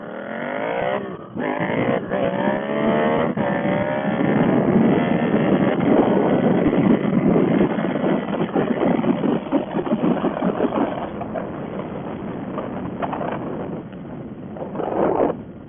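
A Yamaha FZ-07 motorcycle accelerates with its engine note climbing through the gears, loud and close under steady wind rush, for about fifteen seconds.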